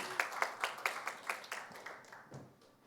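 An audience claps in welcome as a guest steps onto a stage, about a dozen crisp, fairly evenly spaced claps that gradually fade out over a few seconds.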